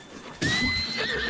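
A horse in the Breath of the Wild video game lets out a sharp, loud whinny after a moment of quiet, with a second shorter neigh following, close and alone.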